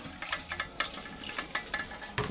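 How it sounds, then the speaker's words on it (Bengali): Food sizzles in a hot pan while a utensil scrapes and stirs in quick, irregular strokes, close up and moderately quiet. "দেখো আলুটা পেঁয়াজটা এদিকে আমার ভাজা হচ্ছে"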